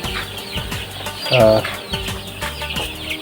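Young layer chickens on a poultry farm cluck and chirp close by in a busy, overlapping chorus. One louder, drawn-out call rises in the middle.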